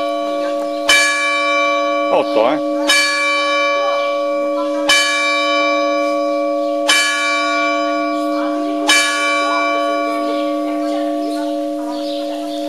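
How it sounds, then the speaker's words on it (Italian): A church bell tolls loudly and close, six strikes spaced about two seconds apart, each leaving a long ringing hum that overlaps the next, with a faint voice briefly in the background. "il rintocco della campana"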